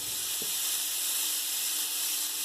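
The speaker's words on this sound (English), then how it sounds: "I hear that nice sizzle." Steady, dense sizzling hiss of burgers cooking on a hot George Foreman electric grill, continuous and fairly close, with no talking.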